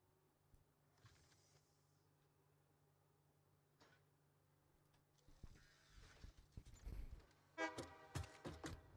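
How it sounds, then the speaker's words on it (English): A vehicle horn in the factory game Satisfactory gives a few short honks near the end. Faint ticking and mechanical game noises play underneath. "Honk."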